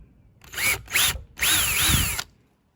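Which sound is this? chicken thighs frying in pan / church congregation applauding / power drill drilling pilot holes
power drill drilling pilot holes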